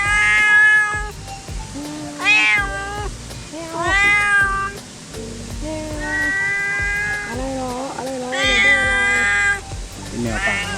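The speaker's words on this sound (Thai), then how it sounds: "มีแมวครับแมวป่านะเป็นแมวป่านะครับเป็นเขาอยู่ป่า" Several drawn-out, rising and falling meows from a wild cat living near a five-tier waterfall in a Thai forest, loud and close, repeated in separate calls with a few brief pauses.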